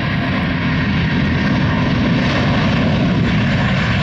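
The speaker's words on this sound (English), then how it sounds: "They cleared this American A321 to take off" An American Airlines Airbus A321 with IAE V2500 engines takes off at Southwest Florida International Airport (RSW), producing a loud, steady, deep engine roar with a broad rushing hiss that holds constant throughout, with no voices.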